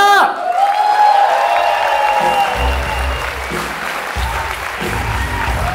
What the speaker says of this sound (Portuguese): Eu quero muitos aplausos para Jansen Serra!